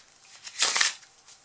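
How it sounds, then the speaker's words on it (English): A quick, soft riffle shuffle of a Bicycle Guardians playing card deck gives one brief papery burst of flicking cards, close and quiet, with no talking. "I'll just give it a quick shuffle first."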